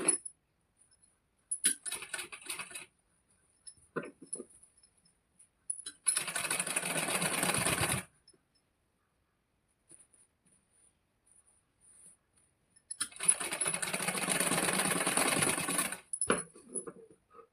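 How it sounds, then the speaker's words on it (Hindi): Sewing machine stitching a seam along both sides of a blouse during fitting, two long steady runs of rapid whirring stitching separated by quiet pauses and small handling clicks. "तो एक सिलाई हम इस पे लगा लेते हैं दोनों तरफ।"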